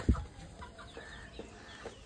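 A few soft clucks from chickens and a rooster, scattered and fairly faint, with a short low thump near the start.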